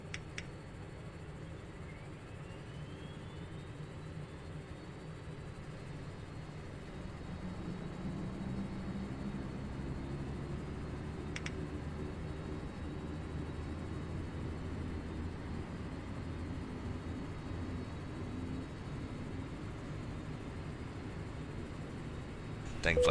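Aircraft engine spinning up in the X-Plane 11 flight simulator, a low steady rumble that thickens and grows slightly louder over the clip, with a faint rising whine; speech is present.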